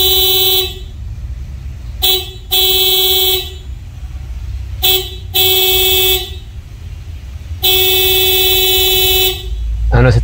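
A loud Bosch FC2 compact disc car horn blares in several honks: two quick toots, a longer blast, then a sustained honk, with low traffic rumble underneath.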